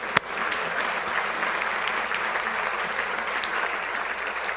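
Audience applause at an education awards ceremony, steady clapping from a crowd lasting throughout, with a sharp single clap near the start.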